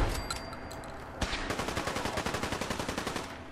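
Rapid automatic gunfire in the video game Fallout 4: a steady fast burst of repeated shots following an opening blast, loud and close, with no talk over it.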